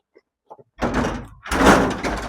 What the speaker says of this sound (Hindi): दरवाजा तोड़ दिया।